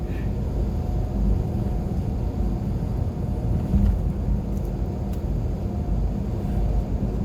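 Highway driving with the throttle released, the vehicle coasting near 65 mph; a steady, loud low rumble of road and wind noise fills the cabin without pause, with no talk.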